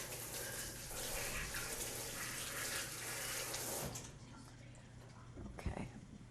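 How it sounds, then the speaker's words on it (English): Water runs from a kitchen tap as a small utensil is washed under it, a strong continuous gush that drops to a softer trickle partway through, with a brief knock near the end. "I will wash this little thing if you don't mind"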